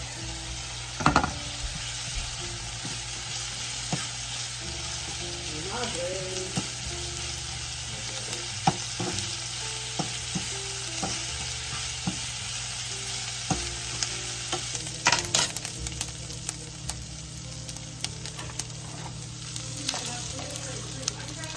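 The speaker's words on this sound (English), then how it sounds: "Okay, so we're gonna get this sauteed." Leftover hamburger sizzling and being stirred in a pan for a gluten-free pot roast, with continuous frying crackle, occasional scraping and clanks of a utensil against the pan, no talk.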